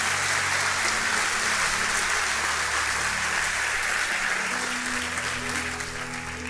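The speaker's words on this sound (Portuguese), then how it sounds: "Dá um melhor aplauso, você pode dar ao Senhor, por favor." Church congregation applauding during a Sunday morning service, a continuous even roar of many hands clapping at moderate distance with a low hum of background voices and tones beneath.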